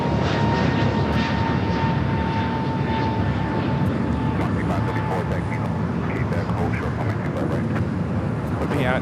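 A WestJet airliner going around on a missed approach at LAX, its engines a loud continuous roar that holds steady throughout, with a voice talking over it.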